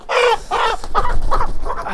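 A rooster clucks in a quick series of bursts, close and loud, with a couple of longer calls followed by shorter clucks.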